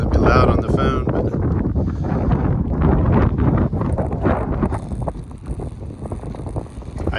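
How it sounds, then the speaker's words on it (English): Strong wind buffets the microphone outdoors along Highway 49 in California near a windy cove, a loud steady rumble with people talking over it. "It's pretty windy."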